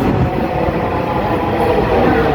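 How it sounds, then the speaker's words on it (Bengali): A crowded metro train rumbles loudly and steadily nearby as it arrives at the platform, a heavy continuous roar of wheels and motors filling the space. "অলরেডি ট্রেন আমাদের চলে আসছে এখন"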